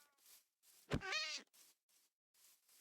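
A single drawn-out cat meow from Minecraft, fairly clear and close, rising and falling, with soft game ambience around it and no talk.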